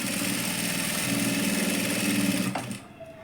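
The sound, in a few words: sewing machine stitching a blouse seam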